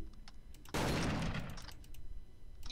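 A taser fired in the Roblox game ER:LC gives one sudden loud burst that stays a harsh crackling hiss for nearly a second, then tails off, heard close with no talk over it.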